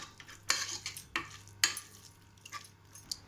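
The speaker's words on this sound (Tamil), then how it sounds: "மத்து வச்சு கூட நம்ம கடைஞ்சிக்கலாம்." Wet, thick stirring and mashing of cooked moong dal in a pot with a wooden churner, a few soft scraping strokes with pauses between them, close by with no talking.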